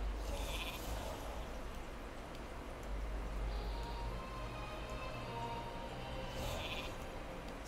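A sheep bleats in a fantasy role-playing video game, a couple of soft calls over a steady, noisy ambient game background with no talking.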